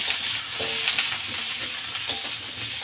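Asparagus hisses and sizzles as it is stir-fried in a pan with crab stick, garlic and ginger, a dense, constant close sizzle with a few faint utensil clicks.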